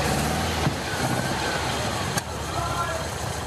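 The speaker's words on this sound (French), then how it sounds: "Ce moteur n'avait pas démarré depuis 20 ans." A restored Porsche engine, freshly overhauled carburetor and new oil, runs after twenty years unused, giving a loud, steady rumbling idle with a busy, rough texture and brief clatters.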